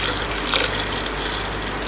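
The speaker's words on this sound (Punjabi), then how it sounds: "1 ਕੱਪ ਆਪਾਂ ਪਾਇਆ ਜੀ ਇਹ ਠੰਡਾ ਵਾਟਰ ਹੈਗਾ ਜਿਹੜਾ ਆਪਾਂ ਫ੍ਰਿਜ ਦੇ ਵਿੱਚ ਰੱਖਿਆ ਹੋਇਆ ਸੀ" Cold water from the fridge pours steadily into a mixer jar while a banana shake is made, giving a continuous close splashing rush with no talking.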